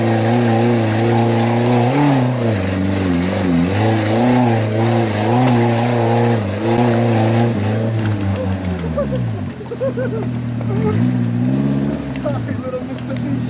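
A small Mitsubishi Pajero Mini off-road vehicle's engine revs loud and close, its pitch climbing and falling over and over before dipping low and swelling up once more near the end.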